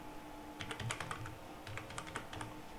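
Typing a file name for a Pivot Animator save on a computer keyboard, two quick clusters of soft key clicks separated by a brief pause, faint and close, with no talk.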